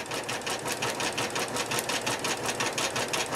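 An embroidery machine stitching a quilted zipper pouch in a 13x18 hoop, a fast, steady mechanical whir of rapid needle strokes, loud, close and continuous.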